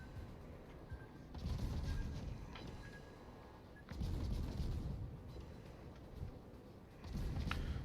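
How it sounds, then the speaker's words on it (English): Torpedo strike on a Montana battleship in a naval battle game: three heavy, rumbling low booms spaced a few seconds apart, each a sustained broadband roar over constant background battle noise, no talk. "I do manage to land a torpedo on this Montana"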